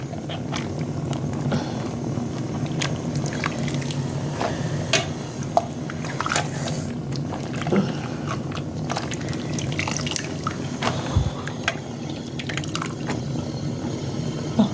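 Boiled cabbage leaves being lifted out of a pot of hot water, with steady dripping and trickling of water running back into the pot throughout, close and continuous.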